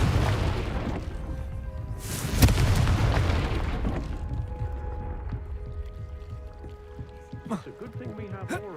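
The Confringo fire spell in Hogwarts Legacy lands as a loud booming blast, followed by a long rumbling decay under game ambience.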